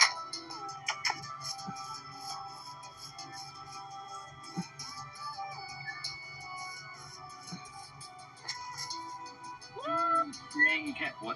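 Cats meowing in a backyard: several short, faint meows scattered through a quiet scene, clustering toward the end, while people talk softly nearby.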